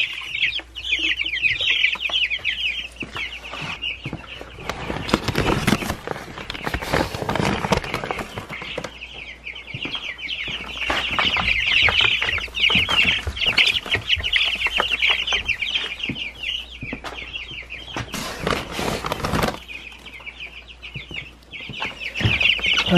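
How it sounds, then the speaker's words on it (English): A flock of meat birds and egg layers, including black copper marans and olive egg layers, clucks and chatters continuously at close range, with occasional bursts of rustling noise and no talking. "The meat birds are looking good and so are the new egg layers."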